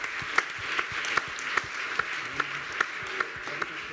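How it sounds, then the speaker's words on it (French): Rhythmic clapping at a conference on soft skills, a steady beat of sharp claps over a diffuse wash of audience applause, moderately loud with no speech. "On t'applaudit même."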